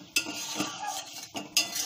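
Chicken korma is stirred and sautéed in a pan, with a spoon scraping and clinking against the metal in several quick strokes over a faint sizzle. The sound is close and fairly quiet.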